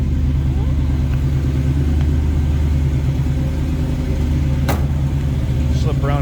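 A 1966 Ford Mustang coupe's V8 engine idles with a steady, deep rumble, heard from close by and continuous throughout, with a few faint brief chirps and noises over it.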